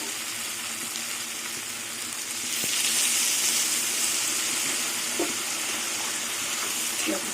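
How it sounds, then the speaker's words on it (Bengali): Taro stolons and prawns frying in a pan as a small amount of water is poured in, giving a steady broadband sizzle that swells louder partway through and holds, with faint stirring clicks. "এবার জল দিয়ে দেবো"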